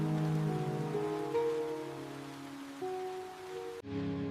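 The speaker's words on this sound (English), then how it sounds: "Tap, tap, the rain begins." Steady rain patters softly, a faint continuous hiss with a few low tonal sounds in the background.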